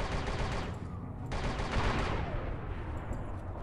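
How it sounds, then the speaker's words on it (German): A mounted turret fires in Star Wars: Republic Commando, a loud continuous burst of rapid automatic blasts close up, with a short break partway through before the firing resumes. "Will jetzt aber trotzdem schießen."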